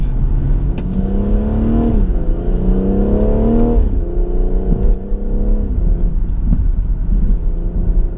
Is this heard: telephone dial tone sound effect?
no